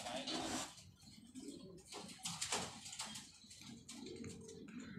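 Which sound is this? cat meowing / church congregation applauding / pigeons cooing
pigeons cooing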